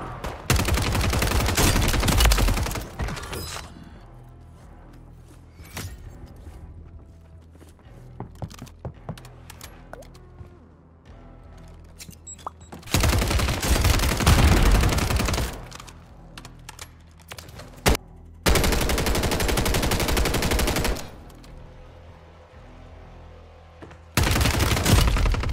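Bursts of SUPERI 46 submachine gun fire in Warzone 3, with three or four loud, dense volleys separated by quieter stretches of scattered clicks and thumps.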